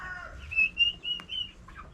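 A rooster gives a few short, sharp clucks at close range while being held for wing clipping, with soft shuffling around the calls and no voices.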